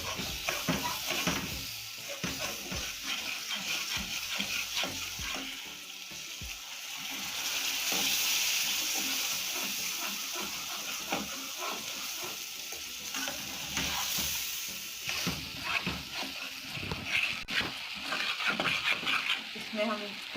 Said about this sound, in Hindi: सूजी भून चुकी है, जब खुशबू आना शुरू हो जाए तो उसके अंदर दूध डाल लें।